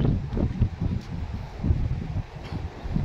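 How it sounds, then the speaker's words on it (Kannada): Heavy wind buffets the microphone near a bridge, a steady low roar with gusty surges throughout, loud and close, with no talk. "ಹೆವಿ ಗಾಳಿ"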